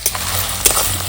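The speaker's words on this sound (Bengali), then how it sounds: "পেঁয়াজটা একটু ব্রাউন কালার করে ভেজে নেব। তো কিছুক্ষণ আমি এভাবে নাড়াচাড়া করে নেব।" Chopped onions sizzling loudly in a hot pan while being stirred, a constant close frying hiss with a few scraping strokes of the spoon cutting through.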